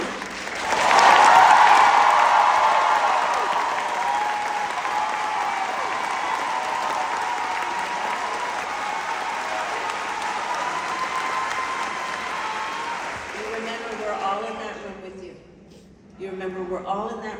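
Sustained applause from a large audience at an event in Los Angeles swells quickly, holds steady for several seconds, then fades as a voice begins speaking.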